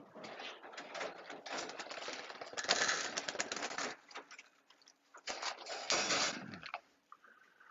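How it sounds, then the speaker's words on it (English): Pigeons in a loft, with soft wing flutters, shuffling and cooing over a busy, continuous background of ticking and rustling movement; no talking. "You can see those birds."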